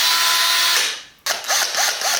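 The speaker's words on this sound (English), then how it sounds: "Today we drill holes in the 350." A power drill bores holes into the body of a Nissan 350Z for a Rocket Bunny spoiler install, a loud steady whine that cuts off briefly, then restarts with a revving, ratcheting drone; no talking.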